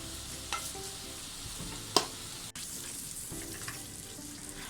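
Grated coconut sautés in a pan for a squid curry, making a quiet, steady sizzle with soft stirring scrapes and one sharp utensil clink partway through.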